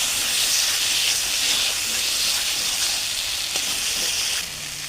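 Ginger paste masala with turmeric and salt frying hard in a pan, a loud, continuous steamy hiss that holds steady and eases slightly near the end.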